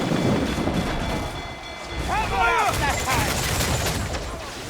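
Ship broadside cannon fire in the pirate naval game Assassin's Creed Freedom Cry, a rolling boom of cannons over wind and sea noise, with shouted crew voices and whistling sounds in the middle.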